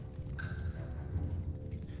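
Horses galloping across a battlefield in the Mount & Blade II Bannerlord video game, a steady rumble of clip-clopping hooves running continuously under a low drone of distant battle noise.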